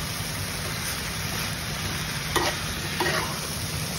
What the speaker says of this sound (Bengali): শাকটাকে প্রথমে দিয়ে একটু মশলার সাথে মিশিয়ে নিতে হবে